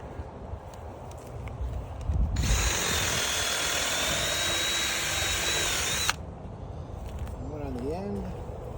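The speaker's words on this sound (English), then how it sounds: "I'll drill 2 more holes in this timber" A power drill whirs steadily for about four seconds, drilling holes in timber, loud and close, with quieter shuffling and handling noises before and after.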